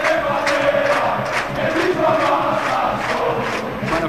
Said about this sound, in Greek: Χειροκροτήματα για τον Άλαν Γκρέταρσον.